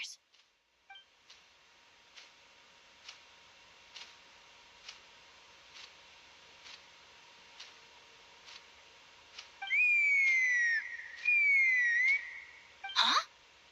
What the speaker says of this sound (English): That sounded like a whistle.